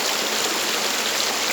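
A forest river in North Kalimantan streams along steadily, its close, even rushing hiss continuous and unbroken, with no voices over it.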